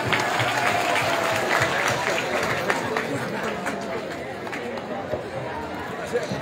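Audience applause at a school education-reform event, sustained clapping from a crowd mixed with chatter and some movement, with an announcer's voice over it.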